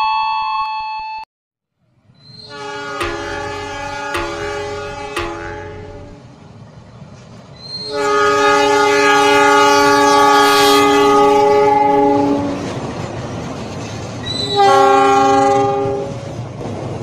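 A passenger train departs from an Indonesian station bound for Surabaya, sounding several loud horn blasts over a steady low rumble of the engine and cars, with no talk.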